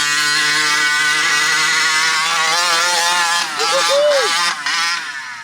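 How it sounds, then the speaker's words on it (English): A 49cc gas engine in a 1/5 scale monster truck drones loudly and steadily at high revs in the snow, its buzzing pitch wavering slightly, with a brief rising whine near the end. "So a 1/5 scale monster truck in the snow."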